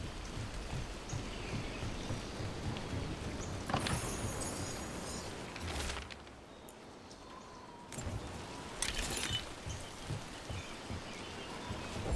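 Rain falls steadily while a character climbs in Dragon Age: The Veilguard, a faint continuous hiss of drops with a few brief louder splashes or scrapes breaking through the soft wash.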